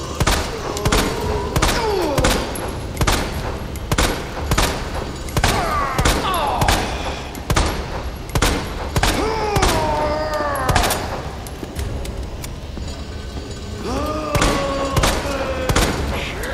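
Rapid, dense bursts of gunfire from the Resident Evil 2 Remake video game, loud and near, firing almost nonstop with thuds and swooping game sounds mixed in, while players talk over the action.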